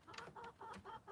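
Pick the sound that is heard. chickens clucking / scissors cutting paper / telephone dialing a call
chickens clucking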